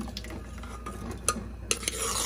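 Washed chili is stirred into a canned fish curry, the spoon scraping and clinking against the pot in light, uneven strokes over a faint sizzle, with no voices.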